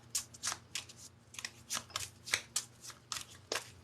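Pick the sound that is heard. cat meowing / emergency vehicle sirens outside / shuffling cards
shuffling cards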